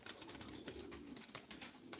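Low, murmuring pigeon coos repeat softly over a faint background hiss, somewhat distant, with no one speaking.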